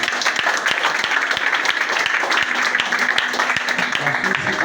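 A church congregation applauds loudly and continuously, dense close clapping that fills the whole stretch without pause.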